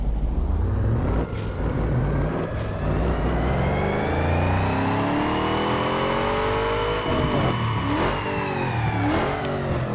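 A tuned car's engine in Need for Speed Underground 2 revs steadily through a dyno run, its pitch rising over several seconds before a few quick gear-shift dips near the end, loud and continuous.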